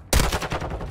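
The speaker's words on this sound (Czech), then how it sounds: "Někdo po mě střílí." Burst of video game gunfire in a Czech evening livestream: a sharp shot followed by rapid repeating machine-gun fire, loud and close, with no talk over it.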